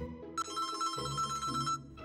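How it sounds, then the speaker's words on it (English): A phone left in a drunk man's bag rings with a steady electronic ringtone melody, fairly close and slightly muffled, repeating for about two seconds with no talk over it. "It's ringing in the bag."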